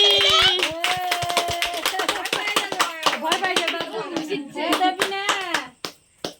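Many hands clap together at a child's birthday, a brisk, lively run of sharp claps with voices calling and chanting over them, then a few scattered claps as it fades out.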